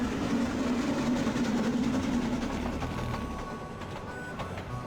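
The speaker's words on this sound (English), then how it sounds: "being able to sleep through a rumbling train" A rumbling train passing in the adventure game The Night of the Rabbit, a loud continuous low rumble with rattling that slowly fades toward the end, with no talk over it.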